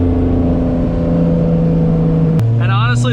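A 1987 BMW E30 325e drives along a park road on an autumn day, its engine droning steadily and loudly up close, then shifting pitch as a voice comes in near the end.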